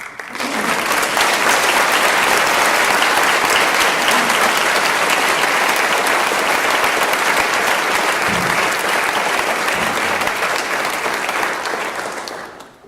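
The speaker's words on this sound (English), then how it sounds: "Please join me in a round of applause to thank Renee and all members of the Kemp family for their generous support of the university." A large audience at an honors convocation claps in a loud, continuous round of applause that holds evenly for over ten seconds before fading at the end.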